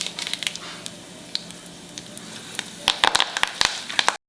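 Dry red chilies sizzling in hot oil for khichadi, a crackling hiss with sharp pops that grow denser and louder toward the end, under light talk.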